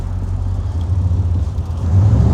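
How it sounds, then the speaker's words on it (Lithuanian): A GMC Sierra's V8 engine runs close and loud, a deep steady rumble that swells a little toward the end, with no talking over it. "V8 garsas."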